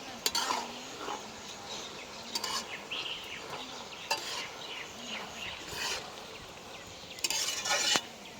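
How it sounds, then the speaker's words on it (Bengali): Fresh cabbage fries with turmeric in a pan while a utensil stirs and scrapes it, producing repeated clinks and scraping strokes over a soft, low sizzle. "হয়ে গেল বাঁধাকপি ভাজা, একদম ভাজা ভাজা করে ভাজলাম"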